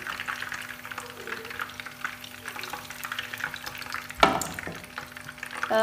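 Soft, steady sizzling of fish frying in a pan with a light clatter of stirring partway through, no voices.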